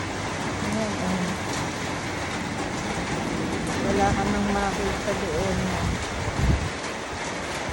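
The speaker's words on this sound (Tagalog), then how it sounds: "May bagyo, may bagyo. Ang lakas ng hangin, no?" Strong typhoon wind and heavy rain roar continuously at a resort in Antipolo during a power outage, a dense broadband wash with people talking over it.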